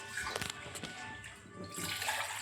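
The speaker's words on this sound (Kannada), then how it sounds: "ನೀರು ಹಾಕ್ತಾಯಿದ್ದೀನಿ" Two and a half cups of water poured into a pot for lemon tea make a gushing, splashing pour that runs continuously, fairly close and moderately loud, with no talk.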